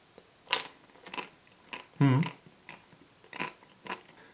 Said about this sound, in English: I think I'm going to go for another bite.